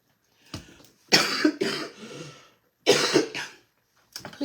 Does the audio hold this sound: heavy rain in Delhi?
no